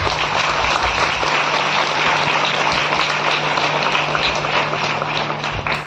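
A church congregation claps together in a dense, sustained round of applause that fills the room evenly for several seconds before easing slightly at the end.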